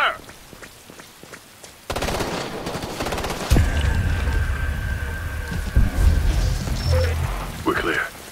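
Gunfire in Ghost Recon Future Soldier, rattling bursts of automatic fire mixed into a dense, noisy battle backdrop, loud and sustained with crackling shots throughout.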